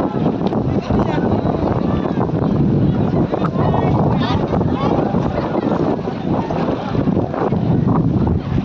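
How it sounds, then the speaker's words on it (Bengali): Strong wind buffets the microphone at Nimaitirtha bathing ghat on a river, a loud continuous roar with water and boat-like rumble, steady throughout with a brief voice among it. "কি সুন্দর হাওয়া দেখো।"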